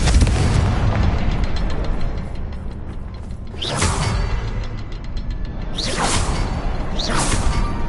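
Confringo blasting spell explosions in Hogwarts Legacy, a game battle: loud whooshing bursts strike around four and six seconds, plus another near seven, over dense, rumbling continuous combat noise with a mechanical texture.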